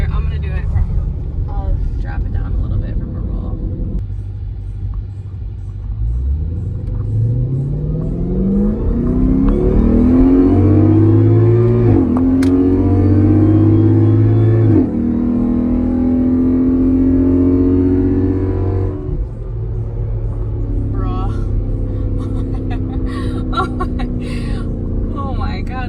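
A 2020 Chevrolet Corvette C8 accelerates from a roll, its engine note climbing steadily through the revs, easing off, then pulling again. The sound is loud and heard from inside the car, with voices talking over it.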